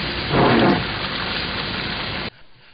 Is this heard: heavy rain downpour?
yes